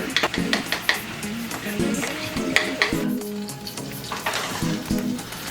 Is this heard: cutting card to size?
no